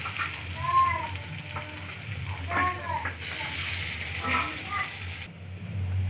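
Garlic paste hits a hot pan of fried onions, a steady crackling sizzle at moderate volume, with someone talking over it.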